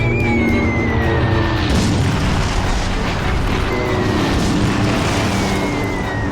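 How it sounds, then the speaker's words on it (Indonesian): Bombs dropped by a German air raid rumble and roar as a continuous loud wall of low booming and crashing, with a faint whistling tone gliding down overhead, heavy and sustained throughout. "armada udara Jerman datang meluncurkan bom"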